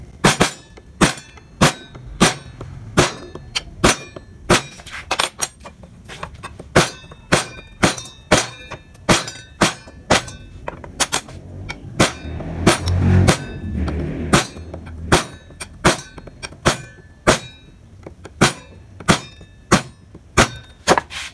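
Steady mallet blows drive a gouge chisel into wood while carving an ornament, sharp regular knocks repeating about once a second, close and loud, with no talking.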